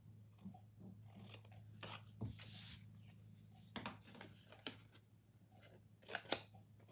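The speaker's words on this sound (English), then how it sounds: "I'm just going to give it a snip there and a snip here." Scissors make several short, crisp snips through folded card paper for a birthday greeting card, each cut a brief close-up click separated by quiet pauses.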